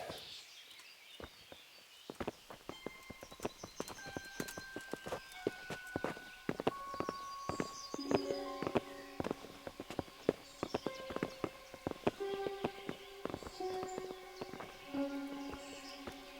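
Steady clip-clop of horse hooves on hard ground in the video game Kingdom Come: Deliverance, many sharp rhythmic hits, with faint sustained musical tones underneath.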